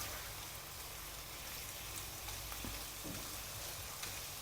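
Onions for a Kerala-style thoran sauté gently in a pan, a faint, even crackle with a couple of light stirring taps, quiet and steady without speech.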